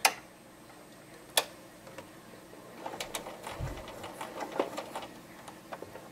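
A sewing machine stitching a piece of Velcro onto fabric for a doll pencil case, a couple of sharp clicks first, then a soft, rapid ticking run of stitches, close and fairly quiet.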